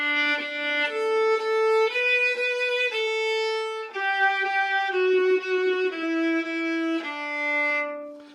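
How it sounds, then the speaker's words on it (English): A bowed string melody moving stepwise through sustained notes, smooth and clear, played solo with no voices. "So if the violin plays something that sounds like this"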